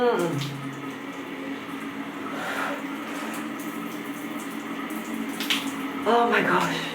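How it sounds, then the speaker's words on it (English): Steady hiss of a shower running hot water in a rental home, continuous and close, with occasional voice sounds over it. "We are in the shower."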